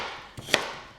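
A kitchen knife chops raw carrots on a cutting board, giving two quick, close knocks a fraction of a second apart against quiet room background.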